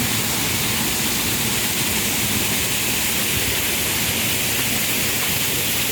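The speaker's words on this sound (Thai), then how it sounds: "มีน้ำพุน้ำตก" Water from a waterfall and fountain in a butterfly park pours down in a dense, steady rushing hiss that stays loud and unbroken throughout, with no voices.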